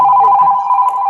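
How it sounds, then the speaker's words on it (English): An office telephone rings with a steady electronic tone, loud and close, with faint voices murmuring beneath it. "It's so rare that the phone rings anymore, the office phone."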